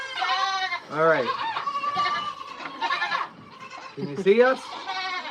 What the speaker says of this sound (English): Can you hear us over the goats?